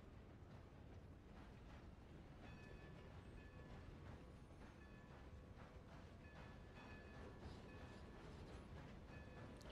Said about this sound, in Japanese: 蒸気機関車。